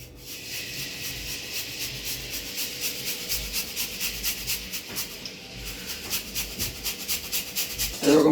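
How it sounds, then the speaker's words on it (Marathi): Jaggery grated by hand for modak, a steady rhythmic rasping of scraping strokes, close and fairly quiet, with no talking. "हे गुळ आपल्याला ह्या ह्या दोन मिश्रणासाठी जे चवी पोत लागेल तेवढं आपण याच्यावरती खिसून घेऊया"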